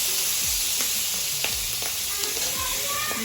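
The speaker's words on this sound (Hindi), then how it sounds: "ये देखो तला आलू" Potatoes fry in a pan with a constant close sizzle, punctuated by a few stirring knocks and scrapes, and no one speaks over it.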